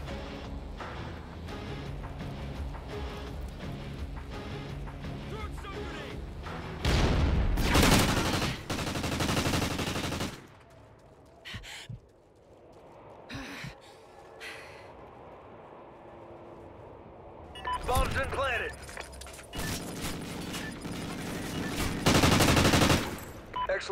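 Gunfire from a Call of Duty: Ghosts 2v2 search-and-destroy match, loud bursts of automatic shots in several clusters separated by quieter stretches of game ambience and effects.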